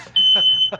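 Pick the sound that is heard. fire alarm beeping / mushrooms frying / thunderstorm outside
fire alarm beeping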